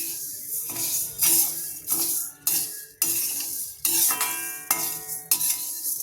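Urad dal dry roasted in a pan without oil, a spoon scraping and clinking against the metal in steady repeated strokes, close and fairly loud with no talk.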